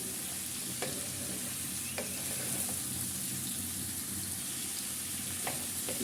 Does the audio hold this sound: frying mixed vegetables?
yes